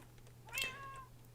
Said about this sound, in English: as you can hear, there's a cat waiting for me here